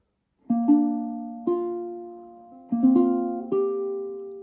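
Plucked ukulele chord melody notes played slowly one at a time, each ringing out and fading before the next, close and clear with no talking.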